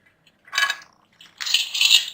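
Dry rice grains pour into a pot for chicken biryani in two short rattling bursts, a brief spill followed by a longer, brighter patter of grains hitting metal, close up with no talk.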